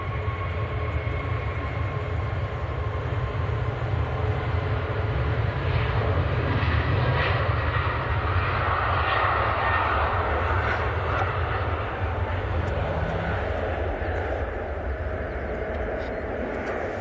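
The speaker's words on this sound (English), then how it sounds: "Next to land, a little Citation 680 of NetJets." A NetJets Cessna Citation 680 business jet on approach to Manchester Airport, about a mile out, produces a steady distant jet whine and rumble, with a person speaking intermittently over it.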